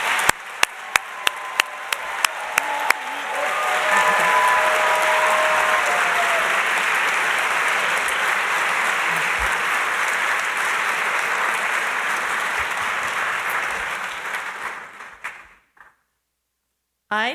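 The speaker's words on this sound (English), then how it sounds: "Let's give them all a round of applause." Audience in a concert hall applauding master's degree candidates at a university graduate commencement; a few scattered claps build into steady, full applause that holds for about ten seconds, then fades and stops.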